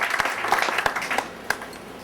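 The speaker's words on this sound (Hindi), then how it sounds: "उनका भी जोरदार तालियों से स्वागत करते हैं।" An audience at a foundation's felicitation event applauds to welcome a guest, with steady, moderately loud clapping from a crowd that carries on briefly.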